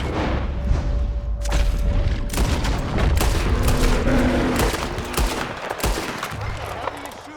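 Loud, heavy gunfire in the video game Red Dead Redemption 2: rapid volleys of shots and booming blasts run nearly nonstop across the scene, with occasional voices in the background.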